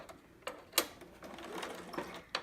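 A sewing machine runs a straight stitch down the side of a two-piece sitter garment, whirring in short, uneven bursts with sharp clicks between them, close and fairly soft.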